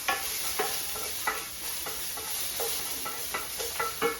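Onions fry in a pan with a constant bright sizzle, broken every half second or so by sharp scrapes and clatters of stirring. The sound is close and there is no voice.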